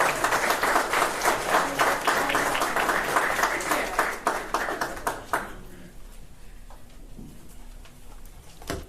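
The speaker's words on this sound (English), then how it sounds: "Please give her a round of applause here." An audience at a news conference claps for a congresswoman in a steady burst for about five seconds, then the applause thins into a few scattered claps and room noise.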